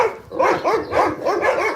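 Several dogs bark and yip back and forth in quick, overlapping bursts, fairly close and loud, with no talking.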